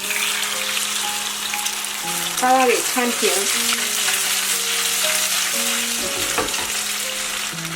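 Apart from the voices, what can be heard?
tofu coated in egg frying in oil in a pan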